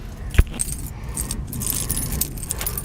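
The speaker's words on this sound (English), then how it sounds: "I'll stick the key in the ignition." Car keys jangle in one sharp, close burst near the start, then low cabin rumble and faint rattles follow inside a 4-wheel-drive vehicle, just before the key goes into the ignition.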